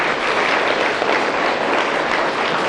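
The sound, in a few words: kids applauding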